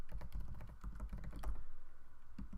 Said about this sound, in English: So I'm going to type in npm I and install the required dependencies